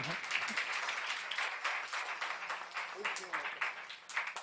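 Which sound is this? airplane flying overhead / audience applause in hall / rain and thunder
audience applause in hall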